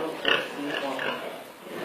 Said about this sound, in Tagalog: Ayan, nakita niyo po yung mga baboy niya.